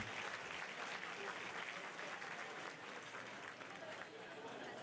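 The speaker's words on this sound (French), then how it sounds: "on peut leur donner une bonne main d'applaudissements" A gala audience gives a round of applause for sponsors at an anniversary celebration, dense sustained clapping from many hands filling the room at an even level, easing slightly toward the end.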